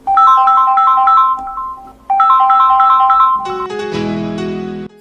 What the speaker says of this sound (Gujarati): મારે પણ કવિતાનો ફોન આવે છે.